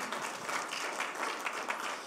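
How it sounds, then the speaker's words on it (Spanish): A church congregation gives the Lord a loud round of applause during a service, a soft, dense wash of many hands heard from some distance. "Démosle un fuerte aplauso al Señor"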